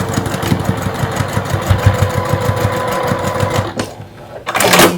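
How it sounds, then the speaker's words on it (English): Sewing machine stitching a fabric seam on a kiss lock clutch purse, a loud close rapid mechanical whir with a steady needle rhythm before it stops and a short clatter follows. "you just stitch right on that line"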